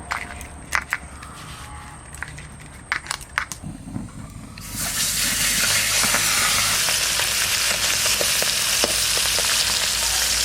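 Hilsa fish dropped into hot mustard oil in a kadai: a few sharp clinks and taps of utensils, then a sudden loud, sustained sizzle and crackle of frying that continues close up to the end.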